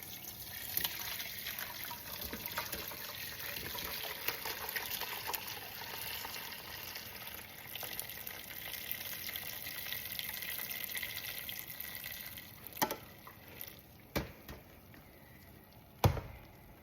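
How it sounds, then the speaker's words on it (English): Vegetable broth is poured through a mesh strainer in a steady, continuous watery rush that runs for a long stretch, then thins into a few splashes and drips near the end, with no talking. "I'm just going to start pouring the broth through the strainer"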